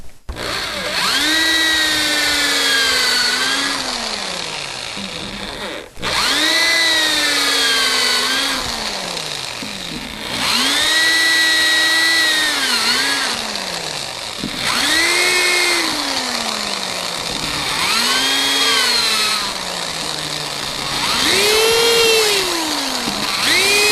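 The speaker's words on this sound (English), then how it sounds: "I'm just going to drill the rest of these out here real quick." A power drill drills out a CG-1500 plastic case, whining up and down in repeated bursts, pitch rising and falling with each pass, loud and close, with short pauses between.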